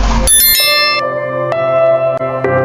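A loud, bright bell chime rings out, followed by several lighter dings that trail off with long shimmering tones.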